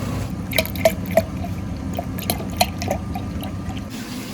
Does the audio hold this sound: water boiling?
yes